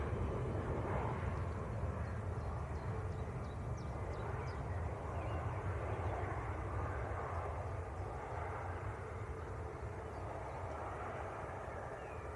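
A Ryanair jet arriving from Dublin lands at an airport, a distant steady engine rush and low rumble that fades slightly over time, with faint bird calls.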